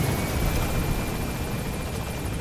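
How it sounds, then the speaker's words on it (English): A helicopter in the video game Metal Gear Solid V: The Phantom Pain thrums as a constant, dense rotor and engine wash, fairly loud and unbroken, with no speech. "I was trying to speak over the helicopter."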